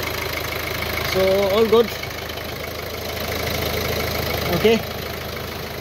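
A Ford C-Max Titanium with a replacement engine idles with its exhaust pipe not yet connected, a steady low rumble running throughout while someone talks over it in short bursts.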